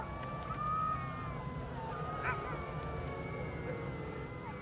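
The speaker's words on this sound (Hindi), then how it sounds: "दूर कुत्तों ने रोना चालू कर दिया है" Several dogs howling far off at night, long wavering wails overlapping over a quiet low background hum, faint and distant with no one talking.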